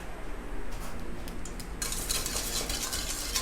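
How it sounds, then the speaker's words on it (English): A spoon stirs hair gloss crème in a container, giving soft, continuous scraping and swishing that grows brighter and busier partway through, with no voices. "Give that one a stir."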